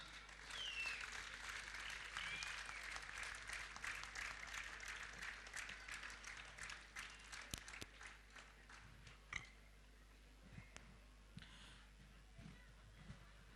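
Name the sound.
applause at award ceremony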